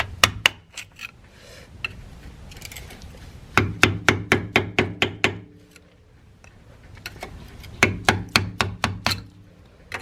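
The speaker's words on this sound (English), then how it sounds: "It's pretty rusted up, so just use a hammer and screwdriver, punch, chisel, whatever you have," A hammer strikes a rusted clip on a Dodge Ram 3500 third-generation Cummins truck, in quick bursts of sharp metallic blows: a short volley, a pause, then two longer rapid runs of about eight hits each.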